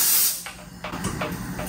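Air blown through the fuel line of a rusty gas tank on a 1970 Triumph Spitfire MK3 gives a steady hiss with spraying bursts and short gurgling pulses, fairly close and continuous.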